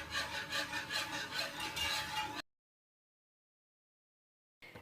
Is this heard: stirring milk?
yes